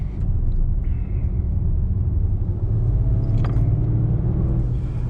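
Steady low rumble from a supercharged V8 in a Land Rover Defender 90, continuous and fairly loud with a deep throb and faint hiss above it.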